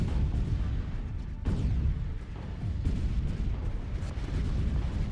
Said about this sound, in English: See all of our torpedoes running forwards.